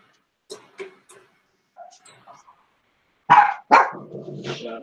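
A dog barks in a few short bursts, with softer yips and growls first and then two loud, close barks followed by a lower grumbling growl.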